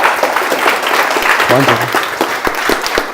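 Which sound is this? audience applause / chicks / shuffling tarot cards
audience applause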